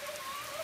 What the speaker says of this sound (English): We're gonna go out there in the rain.